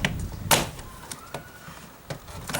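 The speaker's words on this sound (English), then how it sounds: "Just a couple of clips hold it on. Pops right off." A small flat-blade screwdriver pries a clip-held door armrest off a 2003-2008 Toyota Corolla, giving several sharp, close plastic pops and clicks spread across a quiet interior.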